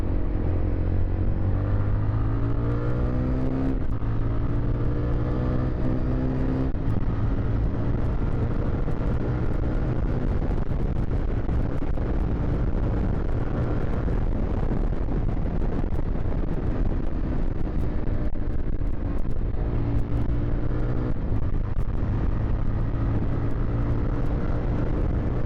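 A 2025 Jawa FJ motorcycle engine drones loudly and continuously while riding, with a steady low rumble that shifts pitch a few times as the throttle or gear changes, mixed with wind buffeting.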